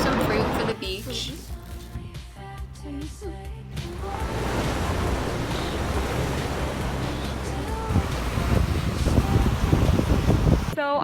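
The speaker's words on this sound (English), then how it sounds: "We're at McKenna Beach." Ocean surf at McKenna Beach in Hawaii rolls in as a broad, steady wash with wind buffeting, after an opening stretch where a person talks over the water.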